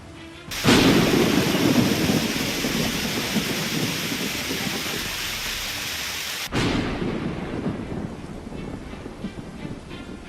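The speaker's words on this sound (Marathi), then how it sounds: "वांद्रे भागातही कालपासनं सुरू झालेल्या पावसानं जराही उसंत घेतली नसल्यामुळं रस्त्यांवर पाणी साचलं" Heavy monsoon rain in Mumbai pours in a dense, loud roar, with a rumble of thunder near the start and a sharp change in the downpour partway through.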